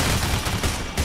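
Sniper rifle fire in the heist video game Payday, a loud dense burst of gunfire sounds that fills the whole short moment, close and harsh with no talk.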